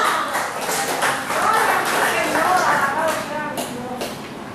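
A church congregation applauding loudly during a sermon, a dense sustained wash of many hands clapping with voices mixed in, fairly close and fading slightly at the end.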